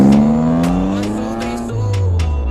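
Maruti Alto VXi petrol hatchback with an altered silencer, revving loudly up and down with a rasping, throaty exhaust note, close by, a pitch sweep climbing then dropping with short bursts between.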